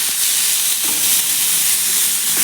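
Raw green tomatoes frying in hot oil, a loud, continuous sizzle and hiss held steady throughout with no voices.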